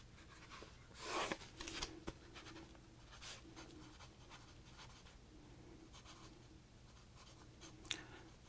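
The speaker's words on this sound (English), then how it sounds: "The writing's really rough today because this pencil has seen better days." Rough scratching of a worn, dull pencil writing on paper, a close, quiet series of irregular strokes and short scrapes with brief pauses, no voices.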